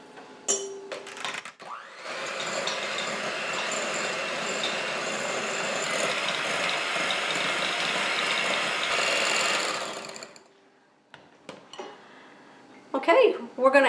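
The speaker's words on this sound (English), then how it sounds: "we're going to take 6 tablespoons of softened butter, and we're going to beat this on a medium speed until it's nice and fluffy and creamy" An electric mixer whirs steadily through softened butter at medium speed for several seconds, a continuous close motor drone with bowl rattle, bracketed by brief clinks and a short voice at the edges.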